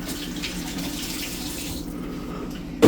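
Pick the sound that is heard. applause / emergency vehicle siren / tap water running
tap water running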